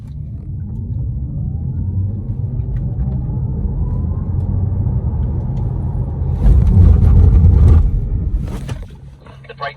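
An Audi RS3 accelerates hard to 80 km/h on a driving course at Mount Cotton, Queensland. The engine rumble builds steadily, swells loudest near the end, then eases off.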